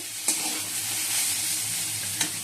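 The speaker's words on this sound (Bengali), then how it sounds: "উচ্ছে আলু ভাজা বসিয়ে দিয়েছি" Bitter gourd and potato slices fry in a pan with a close, steady hiss and sizzle, marked by two brief stirring knocks, and no talk.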